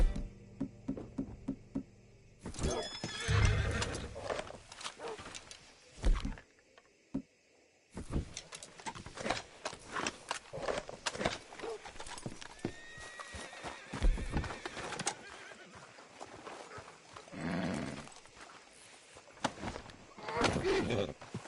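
Horses whinny and clop their hooves in Red Dead Redemption 2, with several neighs and uneven hoofbeats amid other game sounds, a couple of brief gaps breaking the sequence.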